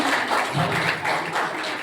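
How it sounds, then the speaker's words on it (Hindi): Audience applause at a school ceremony bidding farewell to two retiring teachers, a dense patter of clapping that swells and dips over a couple of seconds with no voices on top. "तालियां जोर से, तालियां बजती रहनी चाहिए"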